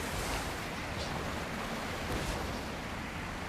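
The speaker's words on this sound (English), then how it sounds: "In this case, it's actually kind of scraping the water" A steady broadband rushing hiss of water spray, as a Lego speeder skims and scrapes across the water surface in Lego Fortnite, continuous and fairly loud with no voices.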